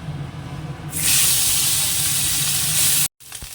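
Small mola fish frying in hot oil in a home kitchen, a loud steady sizzle that starts abruptly partway through, runs unbroken for about two seconds over a low background hum, then cuts out sharply.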